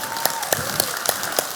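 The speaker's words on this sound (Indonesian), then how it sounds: "Boleh gak kasih tepuk tangan untuk papa ada di sini?" A church congregation at a Christmas service claps in a lively, sustained round of applause, with sharp individual claps standing out through the crowd.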